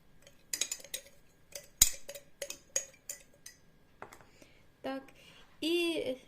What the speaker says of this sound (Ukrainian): Далі я додаю сюди чайну ложечку цукру, все перемішую